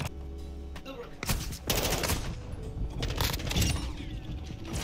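Bursts of shotgun fire and rapid gunshots crackle through a video game firefight, several sharp blasts loud and close against game noise, with a player's voice faintly underneath.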